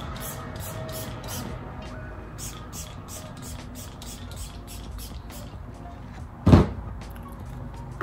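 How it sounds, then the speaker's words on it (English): A face mist is sprayed close by in several short hissing spritzes during a makeup routine, followed by one louder, brief burst near the end. "So I'm gonna spray half of my face right now."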